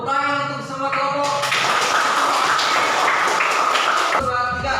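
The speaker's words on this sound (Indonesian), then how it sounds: "Tepuk tangan untuk semua kelompok" Classroom students clapping for all the groups, a dense burst of many hands that starts after a second of speech and stops abruptly near the end, with a voice talking briefly before and after.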